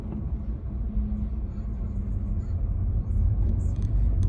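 Steady low road rumble from inside a car stuck in traffic on an Osaka expressway toward Kobe, a continuous engine and tyre drone that swells slightly near the end, with faint clicks above.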